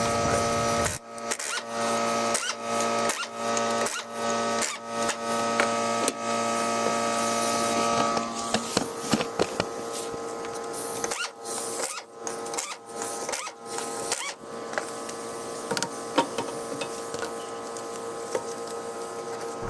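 An Earthquake-brand impact wrench works on the rear wheels of a Galant VR4, giving a loud steady buzzing whir and then a series of rapid hammering bursts, close by and with no talk.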